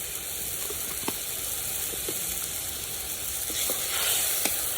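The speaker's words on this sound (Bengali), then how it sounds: "মশলাটাকে খুব ভালোভাবে কষিয়ে নিই" Masala of ginger and cumin paste fries in a pan with a steady, loud sizzle and hiss throughout, broken by a few faint scraping stirs, and no voices.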